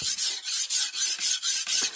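A kitchen knife drawn across the fine side of a whetstone, eight steady rasping strokes in an even back-and-forth rhythm, close and clear with no talk.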